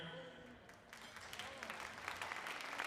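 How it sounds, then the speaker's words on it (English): Audience applause at a healthcare conference opening, a soft, distant patter of clapping that builds slightly over a few seconds, with a voice briefly heard near the beginning. "I've hardly said anything yet and already get applause"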